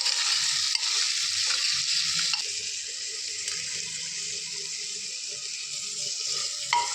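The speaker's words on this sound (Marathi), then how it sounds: "आता टमॅटो चांगला भाजला आहे तर मी मटण टाकते त्याच्यामध्ये" Mutton tipped into a pan of fried tomatoes sizzles in a bright, steady hiss that starts strong and softens a little after a couple of seconds, with faint clatter from stirring and no voices.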